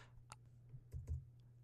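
A few soft, scattered keystrokes on a computer keyboard over a low steady hum, quiet and close.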